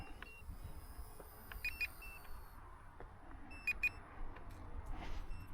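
Short high electronic beeps from a radio-controlled Volantex Corsair F4U model plane sound in small bursts over a faint background hum, repeating a few times at moderate volume as a landing warning.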